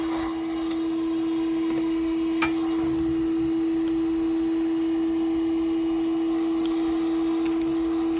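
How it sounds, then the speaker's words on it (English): A vacuum cleaner runs steadily inside the interior of a rotten 1977 Pontiac Trans Am, its constant motor whine holding an even level, with a brief clunk partway through and no talking. "go ahead and try to vacuum some of this crap"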